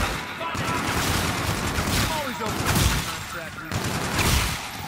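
Rapid bursts of video game gunfire from a newly picked-up gun in a Spacelands match, loud and continuous with repeated volleys, while a player talks over it.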